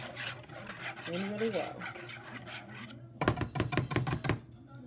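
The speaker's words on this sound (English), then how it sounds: "you want to stir that in really well" A spoon stirs heavy whipping cream into a breakfast frittata mixture in a bowl, making a quick run of rhythmic scraping strokes near the end after a stretch of talking.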